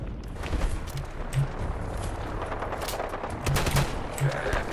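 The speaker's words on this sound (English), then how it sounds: "Crit this guy. Boom! Shotgun." Gunfire in the video game Fallout 4 with a shotgun in combat, a dense, noisy stretch of rapid overlapping shots and impacts that holds loud throughout.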